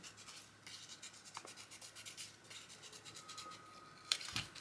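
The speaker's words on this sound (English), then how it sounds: "I might roughly cut this sun out, but then scruff up the edges" Paper is roughly cut into a sun shape with scissors for a collage journal: faint, soft snipping and rustling throughout, with a few sharper paper scrapes near the end.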